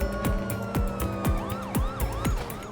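A police car siren from GTA 5 wails in rising and falling sweeps during a chase, loud and close over a steady engine and game noise, repeating several times.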